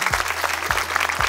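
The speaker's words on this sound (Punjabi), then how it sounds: "ਉਹਨਾਂ ਲਈ ਜ਼ੋਰਦਾਰ ਤਾੜੀਆਂ ਜ਼ਰੂਰ" Audience applause at a college stage show at Mata Ganga Girls College, Tarn Taran Sahib: dense, continuous clapping from many hands, fairly close and loud, with no talking over it.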